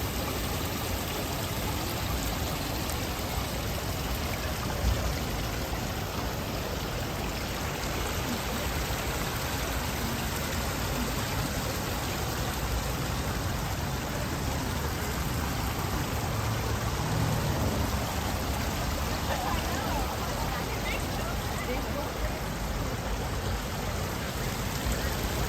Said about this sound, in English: this water fountain. The sound of this water is pretty relaxing.